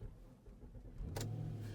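A car engine at an auction cranks and catches about midway, then settles into a low, steady idle close by with no talk.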